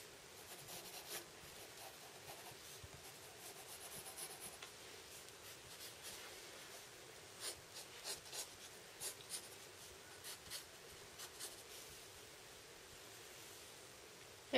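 Pencil drawing a manga character's hair and ear on paper, heard as a steady run of soft scratchy strokes. It is quiet and close, with short bursts of quick strokes in the middle and no voices.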